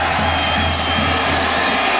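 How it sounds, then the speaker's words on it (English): Football crowd of Furman fans at a college game at Appalachian State, a steady dense roar of cheering and general stadium noise filling the whole stretch without pause. "Crowd makes noise again."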